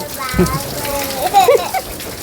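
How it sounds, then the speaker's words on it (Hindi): Heavy rain falls in a steady, hissing wash, with voices, including a child's, talking over it close by. "और बारिश देखिए कहीं पड़ रहा है"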